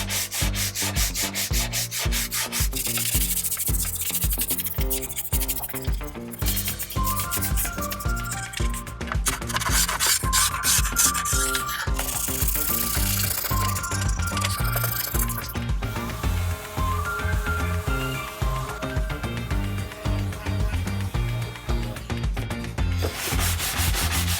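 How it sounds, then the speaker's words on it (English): Rhythmic hand sanding of the rounded edges of an old wooden coffee table with a profile sanding block, quick back-and-forth rasping strokes repeating steadily throughout, close up with no voices. "I used this profile sanding block thingy"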